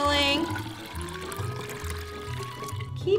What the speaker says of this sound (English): Fill it up with 400 milliliters of water.